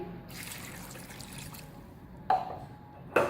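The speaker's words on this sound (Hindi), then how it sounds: "अब पानी शामिल करेंगे" Water is poured into a cooking pot of mutton-and-cauliflower curry with ginger and tomatoes, giving a steady soft trickle and splash that runs for a couple of seconds, followed by a few brief clanks.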